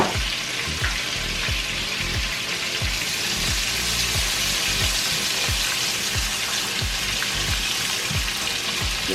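Chopped Vidalia onions and yellow squash frying in a hot pan, a steady close sizzle with bursts of crackle and occasional stirring, continuous and fairly loud with no talking.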